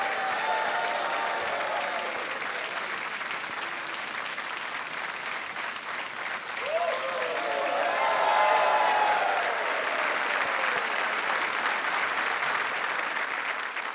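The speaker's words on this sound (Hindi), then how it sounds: "तालियां बजती रहे।" A television quiz-show studio audience applauding, a sustained wash of clapping from a large crowd that swells a little past the midpoint before settling, with faint music tones blended in.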